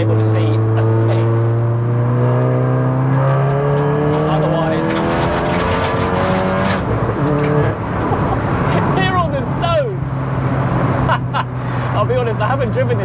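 A turbocharged MK7 Volkswagen Golf R track car on AO52 semi-slick tyres drives with a loud, steady engine drone and shifting tones, accompanied by chirping and squeal-like sounds and talk over it.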